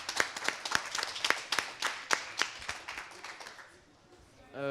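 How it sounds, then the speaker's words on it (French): Scattered clapping from a small audience at a youth literary café at Festival America, individual sharp claps standing out in an uneven rhythm before tapering off, with a voice starting up at the very end. "on peut l'applaudir d'ores et déjà"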